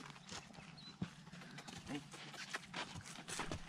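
Hooves of a ridden horse clip-clop in an irregular, fairly faint patter on a trail ride near Nampa, Idaho, under faint voices and outdoor background sound.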